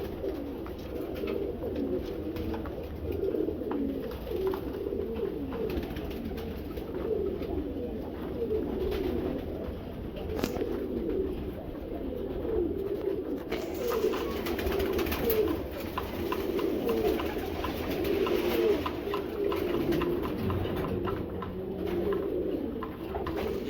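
Racing pigeons coo continuously in a loft, a dense, overlapping murmur of soft, throaty calls that stays steady throughout.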